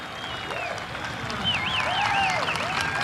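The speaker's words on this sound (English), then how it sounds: "And the crowd is going crazy." Crowd at a water ski tour slalom event cheering after a victory, a steady broad roar throughout with whistles cutting through it.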